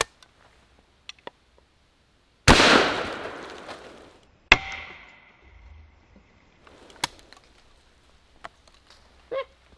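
A Palmetto shotgun fires at an outdoor range: a sharp loud blast followed by a second crack with a brief ringing tail, then scattered faint ticks and clicks in the quiet afterward.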